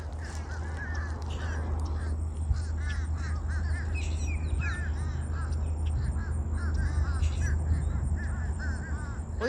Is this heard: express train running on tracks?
no